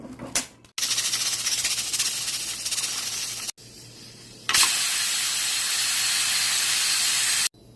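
A pressure cooker on a flame, cooking chickpeas, releases loud, steady hissing steam in long bursts separated by brief pauses, close and continuous.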